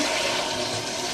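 Water pours into a pot of coconut curry in a continuous rushing splash, close and fairly loud, with no pause.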